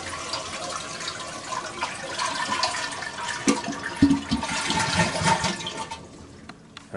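A toilet tank flushes and drains, a rushing, gurgling water sound that swells and then tapers off as the tank empties, heard up close.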